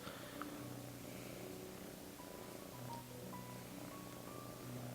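A cat's soft, steady purr hums quietly and continuously throughout, low and close, with faint background tones and no talking.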